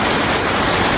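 Heavy rain pours steadily in the Khao Sok rainforest, a dense, continuous hiss of drops close by with no break and no voices.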